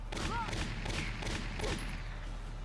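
Mortar fire in the video game Valkyria Chronicles, a series of muffled blasts and rumbling impacts over a steady low drone, moderately quiet, with faint speech partly beneath it.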